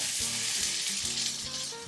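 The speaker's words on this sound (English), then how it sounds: "Brush side down on the very hot frying pan" Olive-oil-brushed bread frying in a very hot pan, giving a steady, close hiss of sizzling with faint crackles throughout, no voices.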